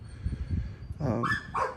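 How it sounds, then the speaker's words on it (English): A neighbor's dog barks in the background, with a couple of sharp barks or yips toward the end over a steady low rumble. "sorry for the background noise, neighbor's dog."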